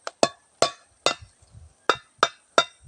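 A mallet pounds on a banana plant, seven sharp, loud, evenly spaced knocks with brief pauses between them and no talk.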